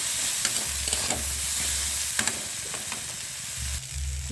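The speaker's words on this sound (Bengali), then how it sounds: "রসুন আদা কুচি, ভালো করে কষিয়ে নিতে হবে।" Chopped garlic and ginger fry in a pan, a close steady sizzle broken by scraping, clinking stirs of a spoon against the metal, with no voices.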